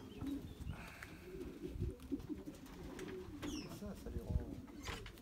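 Racing pigeons coo softly at a loft during a race arrival, low murmuring calls under scattered bird noise and faint wing sounds, with someone talking at times.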